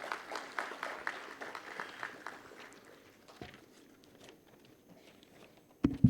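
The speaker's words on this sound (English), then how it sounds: "A round of applause, please." An audience at a grand finale event claps, loud and dense at first, then thinning to scattered claps before a sharp burst at the end.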